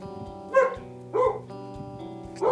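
Three short dog barks ring out at spaced intervals over a sustained, steady musical background, clear and moderately loud with no talking.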